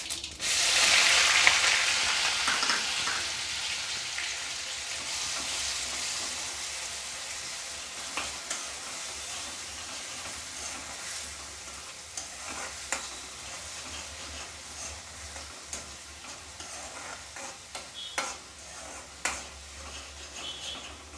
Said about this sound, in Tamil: வெங்காயம் நல்லா வதங்கி கொஞ்சம் பொன்னிறமாக ஆகட்டும்.